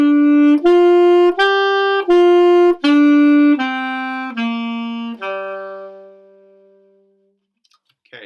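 Sustained pitched notes of a natural minor pentatonic scale played one after another on a single instrument, about seven clean tones stepping in a steady rhythm with a long final note that fades out, no talking.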